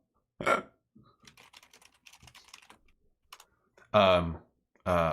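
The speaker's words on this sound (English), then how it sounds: "Oh, who was typing?" Rapid clicking of a computer keyboard during an online Dungeons & Dragons session, a scattered run of light taps and clacks sitting between bursts of voices at the start and end.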